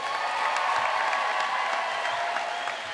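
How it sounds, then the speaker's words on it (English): Sustained applause for the Fordham class of 2022 at a diploma ceremony, a dense wash of clapping from a large crowd, steady and loud throughout. "A final round of applause for the class of 2022."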